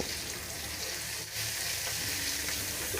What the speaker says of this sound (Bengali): এখন দিয়ে দিচ্ছি হাফ চা চামচ রসুন বাটা হাফ চা চামচ আদা বাটা এবার আদা রসুন তিরিশ সেকেন্ডের মতো ভেজে নিব